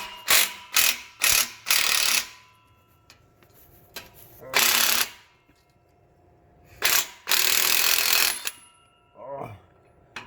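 Snap-on ratchet wrench clicking in loud, close bursts, several quick runs of rapid ratcheting separated by pauses, with faint handling noises between them.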